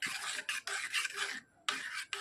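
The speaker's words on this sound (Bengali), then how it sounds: "একটি ছোট চামচের দ্বারা ডিমটা খুব ভালোভাবে মিশিয়ে নিতে হবে" Egg being beaten with a small spoon in a bowl for a flour-and-egg snack: quick, close scraping strokes come in rhythmic bursts separated by brief pauses, with no talking.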